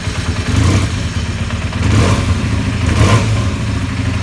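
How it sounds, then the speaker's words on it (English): A Benelli BN302 motorcycle engine running from a cold start, a steady, loud, close mechanical clatter with slight rhythmic swells in intensity and no talk. "Let's hear the Benelli first. This is a cold start."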